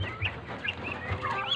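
Chickens cluck in short, repeated bursts at close range, several birds calling over one another with a steady low background hum.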